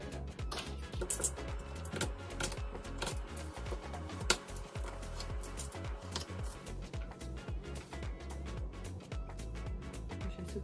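A knife cuts a sweet potato on a board at close range, a quiet series of repeated chops and taps in an uneven rhythm.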